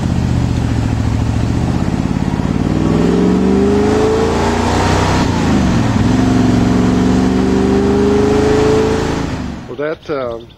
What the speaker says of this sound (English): So now we're going to take the 427 big block out, so it's going to be a little different experience